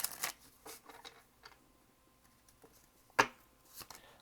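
Cards riffle and shuffle quietly in short bursts, with one sharper snap near the end and soft handling sounds between.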